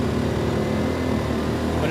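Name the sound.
Erayak 4500PD tri-fuel generator running under load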